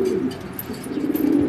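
Large homer racing pigeons coo close by, a series of soft, throaty rolling calls overlapping in quick succession, with no voices.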